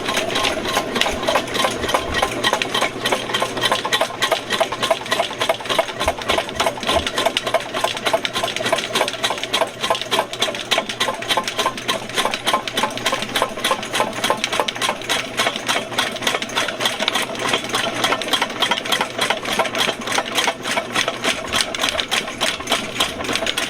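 A VEVOR auto-feed drain cleaning machine with a 75-foot, 1/2-inch cable runs steadily, its motor giving a continuous close whir with a fast rattling pulse that holds evenly throughout, with no talking.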